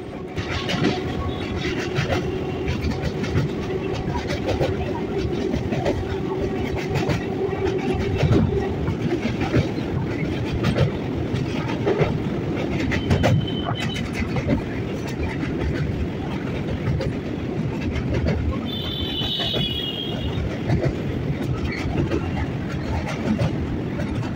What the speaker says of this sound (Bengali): এই ফার্স্ট টাইম ট্রেনে করে আমি এই যাচ্ছি বালি ব্রিজের ওপর থেকে